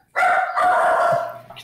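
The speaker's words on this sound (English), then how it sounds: "That's my dog." A dog barks once in a long, drawn-out, howling yelp close to the microphone, loud and sustained before trailing off, with no talk over it.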